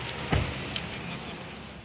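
Steady rain falls as a continuous broadband hiss outdoors, with a brief thump near the start, no talk.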